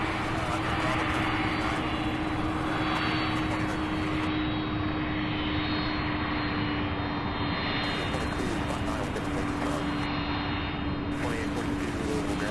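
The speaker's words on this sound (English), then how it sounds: "The 75 did turn to go on for departure on 17 left" A Boeing 757 turning for departure on runway 17 left at Louisville International Airport, a loud, steady engine roar with a sustained tonal hum filling the whole stretch, and faint talk in the background.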